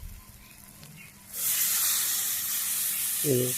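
Water poured into a hot pan of egg and potato curry in a village kitchen bursts into a loud, steady hiss of steam and sizzle after a quiet start, with a brief voiced sound near the end.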